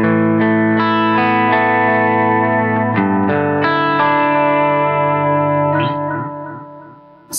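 Electric guitar run through a Seymour Duncan Vapor Trail analog delay pedal with modulation off and widely spaced repeats: sustained chords ring out while echoed repeats trail behind and fade away toward the end, with no talking.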